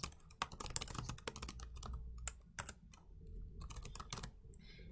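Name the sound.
typing a subpage name on a computer keyboard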